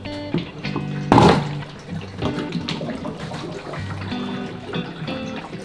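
Tap water runs indoors at a Manila home, a close, fairly loud gush with a strong surge early on, then a steady splashing flow mixed with clatter and other household noise.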